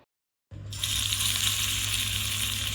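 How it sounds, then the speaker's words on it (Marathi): Kothimbir vadi, coriander fritters, deep fry in oil, a sudden loud, dense bubbling sizzle that begins after a moment of silence and holds steady and close. "आता मी वडी तळून घेतली आहे"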